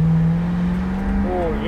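A Pontiac Trans Am engine is pushed into hard acceleration, its loud, close drone climbing steadily in pitch as the revs build.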